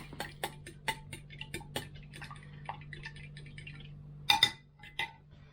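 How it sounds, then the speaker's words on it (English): Light metallic clinks and ticks from a whisk striking a bowl while bread pudding mixture is beaten, a loose rhythm of close taps with a louder clatter near the end. "Whisk together like that."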